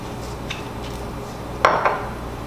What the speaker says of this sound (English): Oh, I just hit the side of the glass.